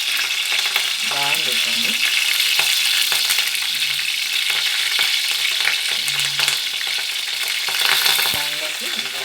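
Fresh curry leaves sizzle and crackle steadily in hot oil for an eggplant curry, a loud continuous fry with occasional stirring scrapes while someone speaks briefly over it.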